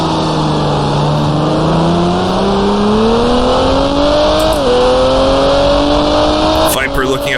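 Race car engines in GT Racing 2002, a Dodge Viper and Lamborghini Diablo among the pack, droning loudly with steady rising pitch as they accelerate, a brief shift near the end, under a commentator's voice.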